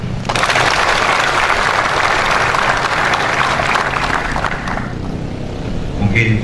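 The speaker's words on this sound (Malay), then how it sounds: "Tepuk tangan dulu." Crowd applause during a police farewell parade for the Dumai police chief, a dense, loud wash of clapping that tapers off near the end as a voice and other sounds come in.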